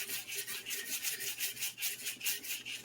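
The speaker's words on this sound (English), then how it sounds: "so I'm starting to basically go ahead and sand this" Hand sanding a guitar body back to bare wood, with rhythmic back-and-forth rasping strokes about every quarter second, close and fairly quiet, with no talking.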